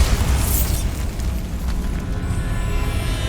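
A Bombarda blasting spell detonates in Hogwarts Legacy on PC, a loud, close explosion with a heavy low boom and crackling burst that rumbles on for a few seconds with no talking.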